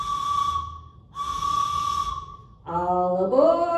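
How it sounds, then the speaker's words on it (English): Train whistle call led for a children's Bible school 'all aboard' routine, with two steady sustained whistle blasts followed by a rising, wavering tone, fairly loud and with no talk over it. "let's make sure that we are getting started with our train whistle"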